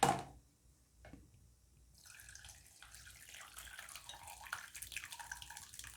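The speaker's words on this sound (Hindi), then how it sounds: "यहाँ पर आप देख सकते हैं मैंने छन्नी को एक बर्तन में लगा दिया है। हम छान लेंगे इस पानी को।" Whey from curdled milk, about one litre, is poured through a strainer set over a pot while paneer is made at home. It begins as a brief splash, then after a pause becomes a steady, close rushing trickle of liquid.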